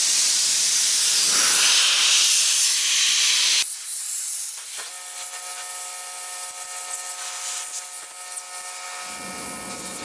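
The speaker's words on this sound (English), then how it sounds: "I'm going to use some compressed air to try to blow out what's in there" Compressed air blasts into an old Singer sewing machine during restoration: a loud, close, roaring hiss for several seconds, then quieter tonal air and faint rattles before a brief second burst at the end.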